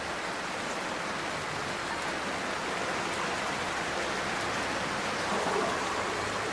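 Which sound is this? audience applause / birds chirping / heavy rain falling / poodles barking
heavy rain falling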